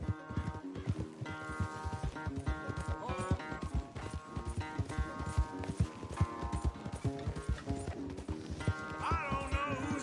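Horses gallop in a race in Red Dead Redemption 2, with rapid, continuous hoofbeats close by and a brief whinny mixed in, over steady game sound.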